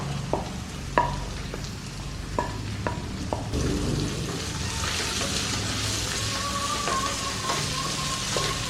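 Sliced onions and shallots in oil: a few sharp spoon knocks and stirring scrapes at first, then a strong, even sizzle takes over as they fry, close by and without speech.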